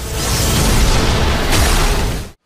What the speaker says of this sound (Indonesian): Ledakan dahsyat meletus di langit wilayah kuno ketika Medusa melepaskan bola petir warna-warni